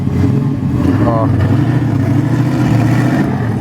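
A loud, rough Camaro engine rumble with exhaust cutouts open drones steadily throughout, deep and throaty, with a brief exclamation from a voice partway through.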